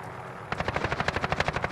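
A helicopter in Call of Duty Warzone approaches with a sudden, close, rapid rotor thump, its blades beating in an even, fast rhythm that continues strongly to the end.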